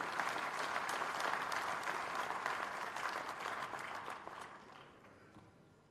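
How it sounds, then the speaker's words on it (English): An audience applauds at a University of Lagos convocation lecture, a dense burst of clapping that stays strong then fades out over several seconds. "Applause for him."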